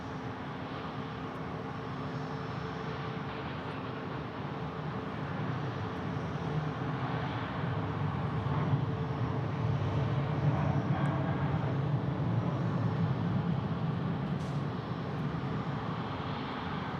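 An airliner in San Francisco Giants livery passes at Phoenix Sky Harbor Airport, its steady jet roar swelling gradually and staying broad and distant-sounding throughout, with no voices.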